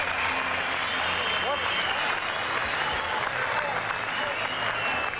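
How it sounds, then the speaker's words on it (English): Standing ovation from a packed boxing crowd after a bout between Wayne McCullough and Fabrice Benichou, a thick continuous roar of clapping with faint cheering and voices mixed in, loud and sustained. "Listen to the applause."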